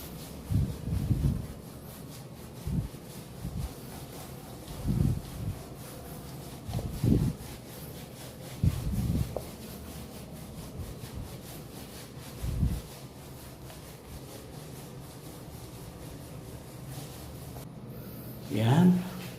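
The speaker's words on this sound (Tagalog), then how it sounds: "Kuskusin natin dito sa legs." Skin being scrubbed in a Moroccan hammam bath, with repeated short rubbing strokes in irregular bursts, close and fairly loud, under an ongoing speaking voice.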